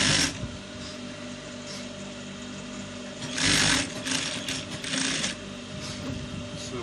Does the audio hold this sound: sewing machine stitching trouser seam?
yes